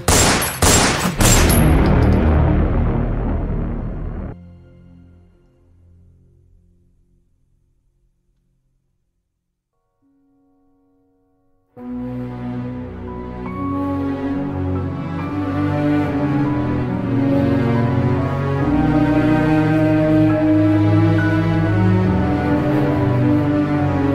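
A gunfire sound effect in a youth team's missionary skit: a loud, dense burst of rapid shots lasting about four seconds fades into near silence, and then music starts and continues.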